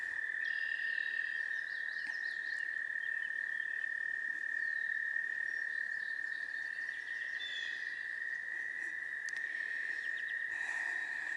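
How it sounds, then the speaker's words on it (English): A dense, steady chorus of frogs and insects trilling continuously in the distance near a garden, a high sustained drone with no voices present. "Can you hear the frogs?"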